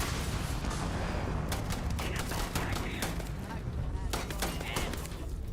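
Dense, continuous gunfire in the video game Starfield, with bursts of shots and fusillade-like volleys that stay loud and close throughout, sometimes under faint talk.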